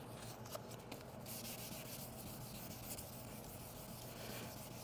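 Hand sanding of car paint with 1000 grit sandpaper: a quiet, continuous gritty rubbing with faint back-and-forth strokes, close and soft throughout.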